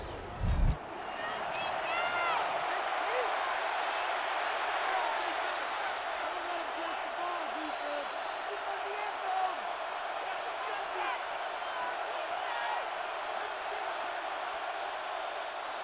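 Stadium crowd at a Jacksonville Jaguars vs. New Orleans Saints NFL game reacts to an early sack, a sustained broad roar beneath continuous play-by-play commentary.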